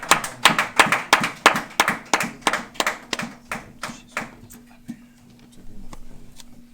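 A church congregation claps in a steady rhythmic beat, loud sharp hand claps repeating at an even pace before thinning out, with a sustained hum beneath.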